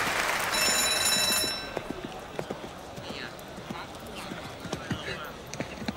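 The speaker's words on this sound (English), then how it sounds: "And still the applause continues." Crowd applause at a show jumping event, strong at first and then easing as a horse's hooves clip-clop steadily across the arena, with a commentator talking over it.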